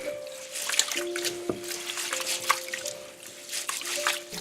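A batch of 1.5 kilograms of sticky rice is washed in a bowl of water, giving soft trickling, sloshing and squishing sounds close by over a faint steady tonal background.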